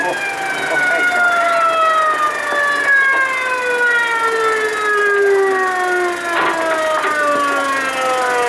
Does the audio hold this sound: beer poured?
no